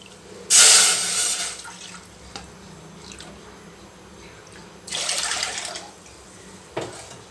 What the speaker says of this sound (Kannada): ಈಗ ಇದಕ್ಕೆ ಕಾಯೋದಕ್ಕೆ 2 ಕಪ್ ನೀರು ಹಾಕ್ತೀನಿ